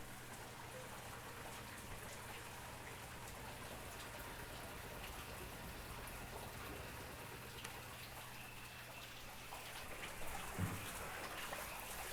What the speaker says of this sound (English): we just got a freshwater rinse over here